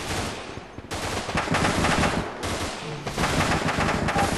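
Sustained automatic gunfire from an armored personnel carrier and infantry during a video game assault on a checkpoint, dense rattling bursts with brief gaps, loud and continuous with no talking.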